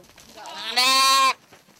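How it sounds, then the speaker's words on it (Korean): A baby goat in the Gobi Desert gives a single loud, close bleat that rises into a wavering, nasal cry lasting about half a second, with no talk around it. "새끼 염소에게 다리마 씨는 엄마나 다름없다"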